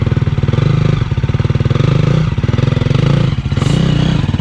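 A motocross bike's engine runs close up in the Qatar desert with a rapid, pulsing putter that surges and dips between idle and light revving, loud and alone without talk.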